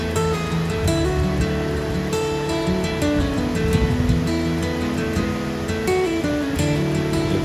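Water babbles and rushes over rocks in a stony stream near a Mahadev temple in Shivbhandane, Dalwat, Nashik district. It makes a continuous close, hissing gurgle with no voices.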